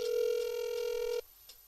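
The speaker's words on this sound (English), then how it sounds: "so let's call Senator Sam Brown back" A telephone rings steadily with one long electronic tone during a call to a US senator's office, then cuts off abruptly, followed by a brief faint sound.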